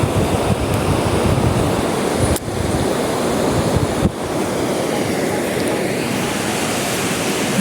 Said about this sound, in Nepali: खोला दरोज लागिरहेको छ।